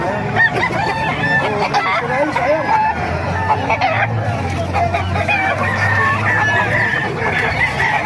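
Chickens and roosters cluck and call continuously at a busy, noisy outdoor chicken market in Calumpit, Bulacan, Philippines, with a low rumble and faint voices mixed in.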